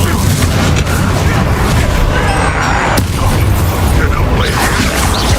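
Incendio fire spell cast during Hogwarts Legacy combat, a dense, loud wash of booms and blasts with constant battle noise and speech mixed in.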